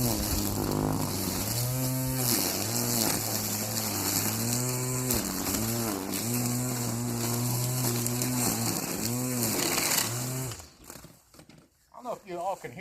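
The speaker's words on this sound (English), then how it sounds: "that little 20-volt battery on there, when them batteries are charged up, this little weed eater cuts really good." A battery-powered 20-volt weed eater runs with a steady, buzzing motor drone close by outdoors at a homestead, with someone talking over it, then the motor cuts off near the end.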